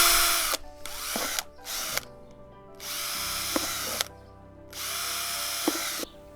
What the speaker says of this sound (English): Probably the safest way to do this is with a drill.